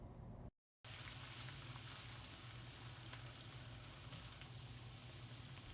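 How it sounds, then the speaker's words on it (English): Butter and sliced garlic sizzling and frying in a hot pan, a steady close crackle running unbroken after a brief silent gap at the start. "add in a 1/2 stick of butter and your slice of garlic. And then you want to cook it a little bit more until all the butter is melted"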